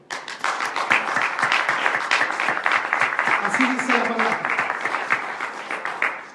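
A church congregation claps together for God during a Spanish-language sermon, dense steady applause filling the room at close range while a preacher's voice speaks over it.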